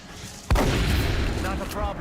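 A shotgun blast in the XCOM strategy game, a single sharp boom followed by a rumbling tail and lingering battle noise.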